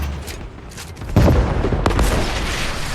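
Grenade explosions in the Fortnite video game go off as two loud, sharp booms a moment apart, followed by a sustained rumbling roar of battle noise.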